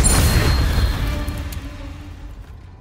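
A Confringo blasting curse in Hogwarts Legacy bursts at the very start with a loud boom, then its rumbling tail fades away over a few seconds.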